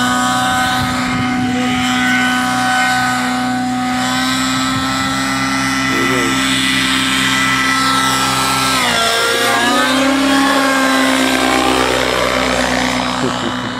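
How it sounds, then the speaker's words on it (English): Synergy N9 RC helicopter taking off, its rotor and motor giving a loud, steady whine close by that shifts in pitch and swells partway through as it lifts. "This is a quad special takeoff."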